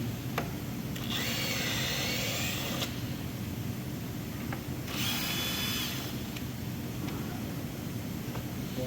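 A ratchet works on bolts holding the underbody tray of an Audi Q7 during an oil change, giving two bursts of rapid clicking ratcheting over a constant background hum, no speech.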